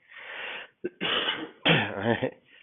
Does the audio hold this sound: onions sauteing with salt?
no